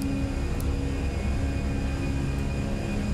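Airbus A320 airliner accelerating in a flight simulator, the steady broadband engine roar holding loud and continuous throughout with a faint whine above it, no voices over it.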